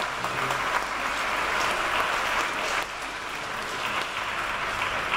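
A large concert crowd at a fiddle awards show claps steadily and warmly, a dense, continuous wash of applause filling the whole stretch without letting up.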